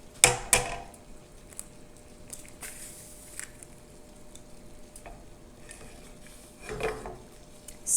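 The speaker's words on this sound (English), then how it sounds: "So we're frying an egg." A raw egg fries in a pan at home with a quiet, steady sizzle, broken by a few sharp clinks and scrapes of utensils against the pan and a soft clatter near the end.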